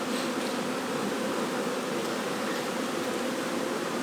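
Honeybees hum around an open hive during a spring inspection, a dense, continuous buzz that stays steady and close throughout, with no talk.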